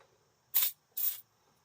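PB Blaster penetrating oil sprayed onto a brake line of a Mercedes C140, two short close hissing bursts separated by a brief pause, with quiet background otherwise.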